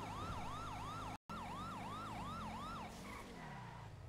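Emergency vehicle sirens wailing in a GTA roleplay game, a fast repeating yelp pattern close and loud that cuts out briefly, then fades into lower engine rumble after about three seconds.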